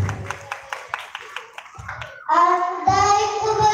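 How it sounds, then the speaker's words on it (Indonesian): Handclaps at a children's nasyid, poetry and preaching contest come in a brief burst, followed by a voice starting to sing over music. "tepuk tangan dulu untuk Miftahul Khair."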